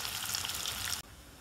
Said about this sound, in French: On va les caraméliser dans un peu de gras.